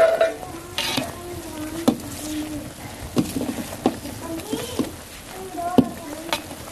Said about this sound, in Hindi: कलर डाल के सही तरह हिलाएंगे ताकि सारी चाशनी में अच्छी तरह मिक्स हो जाए।